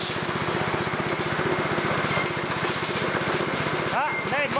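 A Fisher & Paykel Smart Drive washing machine motor spun up as a generator, making a loud, rapid buzzing drone with a fast pulsing beat, close by, with a voice breaking in near the end.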